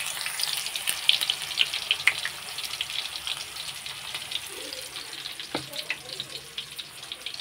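Sliced bitter gourd fries in hot oil with a steady, hissing sizzle and scattered sharp crackles that ease off slightly toward the end.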